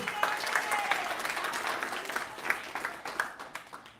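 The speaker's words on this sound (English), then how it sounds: "Let's give Kiara another round of applause" Round of applause at a high school 8th grade luncheon, steady clapping from a crowd with some individual claps standing out, moderately distant and continuous over a few seconds.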